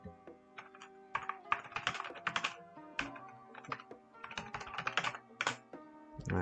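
Someone types text on a computer keyboard, producing close, crisp clusters of keystrokes in uneven bursts with brief gaps between them.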